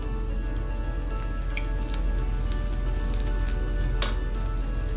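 Plantain fritters fry in oil over low-medium heat, giving a steady close sizzle with faint pops and crackles throughout and no talking.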